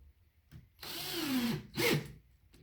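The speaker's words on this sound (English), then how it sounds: "it's amazing how just putting those screws in tightens this up and makes it rigid" A power drill drives screws into a pre-drilled wooden unit in a workshop, heard as two short, close bursts with the motor pitch sliding down as each screw seats.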